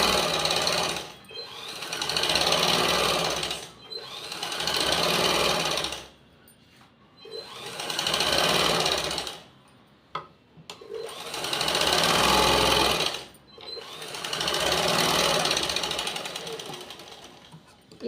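A sewing machine stitches the underarm joint of a blouse in repeated bursts of rapid, steady chatter, five runs separated by short quiet pauses, close and fairly loud.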